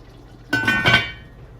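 A lid goes down onto a pan of meatballs simmering in creamy mushroom sauce, one short metallic clink that rings briefly and fades, with a low kitchen hush before and after.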